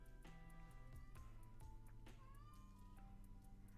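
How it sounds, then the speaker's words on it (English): A house cat meows faintly outside a closed door, with several drawn-out cries mixed into a steady, quiet indoor background of humming tones. "my cat is just going to meow outside my door"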